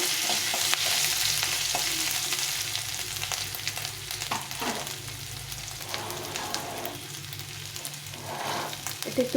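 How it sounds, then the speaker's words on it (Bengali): A pinch of asafoetida frying in hot oil while being stirred for a mixed-vegetable ghonto, giving a steady close sizzle with scraping stir strokes throughout, no talk. "এক চিমটির মতো হিংটা দিয়ে দিলাম দিয়ে একটু ভালো করে নিয়ে নিতে হবে"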